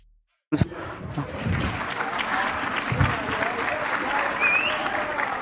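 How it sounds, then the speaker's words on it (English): Members of a parliament in Malawi clapping hands in the chamber, starting abruptly after a moment of silence and continuing as a dense, steady round with some voices mixed in. "Would like to clap hands."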